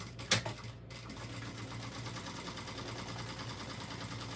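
A home sewing machine runs a steady, even stitch along a quarter-inch seam. A short clunk comes near the start, then the motor hums on without a break at close range.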